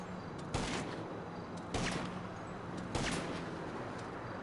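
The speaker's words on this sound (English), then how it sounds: "They must have increased the fire rate for the heavy sniper because it seems to shoot faster than normal." A heavy .50-cal sniper rifle in GTA Online fires three evenly spaced, sharp shots about a second apart over a steady background of game noise.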